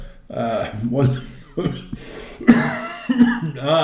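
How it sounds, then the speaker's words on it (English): A few raspy coughs and throat-clearing bursts, close and fairly loud, broken up by short pauses. "Old man's cough is what they say"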